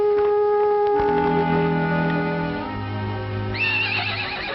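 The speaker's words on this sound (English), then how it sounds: "It's your horse, standing out there as pretty as can be." A horse whinnies in a 1950 western, a loud drawn-out neigh with a wavering pitch that trails off, followed by a second rising call near the end.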